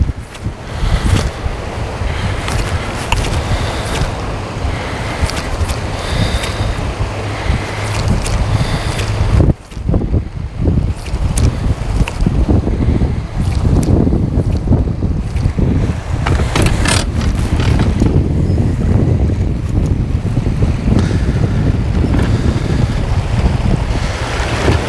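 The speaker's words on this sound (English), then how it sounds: "This wind is kind of blowing out of the west and pushing us directly downstream." Strong west wind buffets a fishing boat on the water, a steady loud roar with gusting rumble and wave wash throughout, no one speaking.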